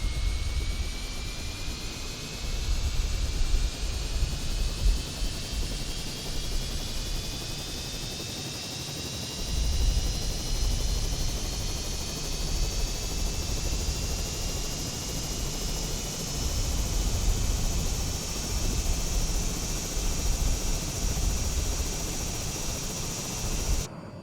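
A TBM 930 single turboprop engine idles at low throttle in Microsoft Flight Simulator, a steady loud whine with a slowly rising tone over a broad rushing roar that continues without pause.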